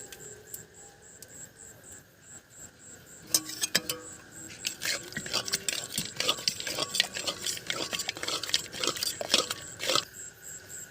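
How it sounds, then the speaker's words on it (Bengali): A spoon stirring goat leg curry with cinnamon, cardamom and clove paste in a cooking pot, quiet scraping and clinking strokes in a busy run over a steady high insect-like hiss. "দিয়ে 2 মিনিট মতো নেড়ে নেব।"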